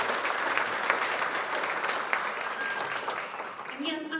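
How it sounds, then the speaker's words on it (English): Audience applause for parents at the 2026 Young Floridian Award ceremony: a full, sustained round of clapping from a crowd, with a voice starting to speak near the end. "So another applause for your parents."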